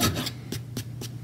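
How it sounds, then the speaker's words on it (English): A rasp files metal to shape forming stakes for metalsmithing, giving about four short, close scraping strokes in a quick, even rhythm, each a bright rasping burst with nothing else heard. "take a rasp, make sure I'm on video here, or other type of forming file"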